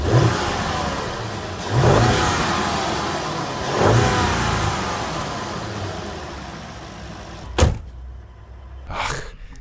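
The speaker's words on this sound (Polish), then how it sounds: "ma taki bulgot niczym amerykańskie V8" A twin-turbocharged 4.0-litre V8 in an Audi S8 TFSI revs in three swelling bursts with a deep burble, then two sharp blips follow after a brief quieter gap, loud and close.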